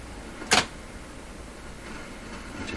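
A Sony TC 530 reel-to-reel tape deck stops abruptly as its brake engages, producing a single sharp mechanical click, followed by a faint steady background hum.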